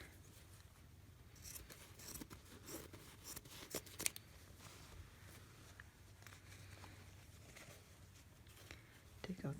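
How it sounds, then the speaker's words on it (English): Scissors trim the selvage off quilting fabric, making quiet, intermittent snipping and rustling with a few sharper cuts scattered through, close by and faint. "Take off the batting, trim off the selvage."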